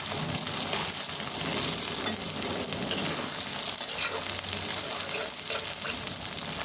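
Oil sizzling steadily in a pan while peas and other ingredients fry for Kannada-style vangibath, a dense, close crackle with faint stirring scrapes and no talking.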